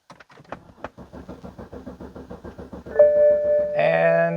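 BMW E90 starter cranking the engine in a rapid, even rhythmic churn for about three seconds without catching, then a sustained electronic tone and chime come in.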